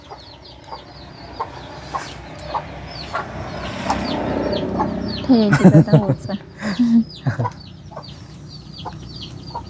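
Chickens cluck repeatedly at a rural home with a coop, busy bursts of fowl calls rising mid-clip over steady background, while people talk throughout.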